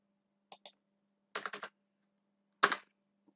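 Three short bursts of computer keyboard typing while entering Python comparison-operator code, a double tap, then a quick run of four keystrokes, then a final cluster, close and crisp in a quiet room.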